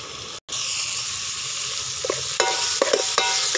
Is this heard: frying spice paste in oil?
yes